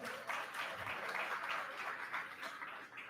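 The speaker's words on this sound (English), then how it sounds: "Let's give her a round of applause." An audience applauds a guest at a live-streamed event on migration and forced displacement, with steady, dense clapping that holds for the whole stretch.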